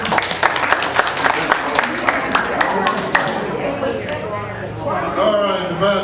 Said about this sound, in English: Give him a great big round of applause, Mr.